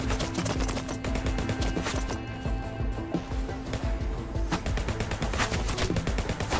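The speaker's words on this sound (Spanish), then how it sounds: "¿Quién me está disparando? Me estaban disparando." Rapid video game gunfire aimed at the player: dense bursts of automatic shots, loud and close, with a brief lull before the firing picks up again.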